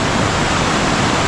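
Heavy rain on a mountainside with running water, a loud, dense, steady rush that fills the whole moment without a break.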